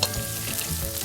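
Vegetables (string beans, carrot and cabbage) stir-frying in a pan over high heat for vegetable Hakka noodles, giving a steady, close sizzle with light stirring and no voices.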